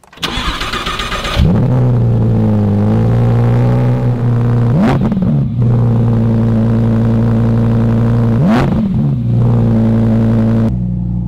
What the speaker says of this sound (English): We'll start the car. It should be a cold start too.